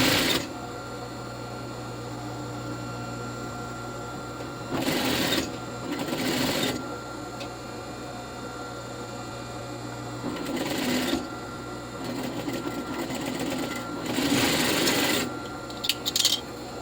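A straight sewing machine stitches a lined A-line skirt, its motor humming steadily up close, with several louder rasping bursts of fabric being moved and handled between runs.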